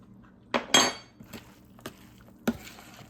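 Spoons being picked up and clinking against a bowl of Southern coleslaw in a kitchen: a few sharp metallic clinks and taps spaced out over a quiet background.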